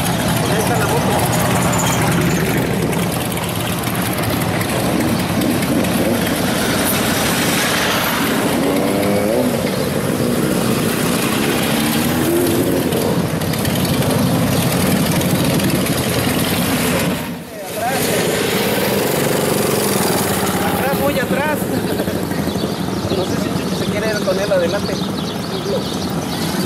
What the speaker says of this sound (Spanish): Ahí está la moto.